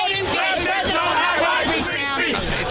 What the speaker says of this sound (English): Now the crowd gets into it.